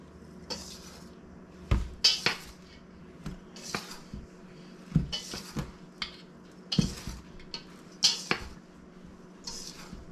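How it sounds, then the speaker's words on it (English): A whisk works through dry, powdery homemade pancake mix in a bowl, giving repeated brisk scraping bursts with light metallic clinks against the bowl, rhythmic and close, separated by short pauses. "I'm just going to take my whisk and make a big mess because that stuff is powdery"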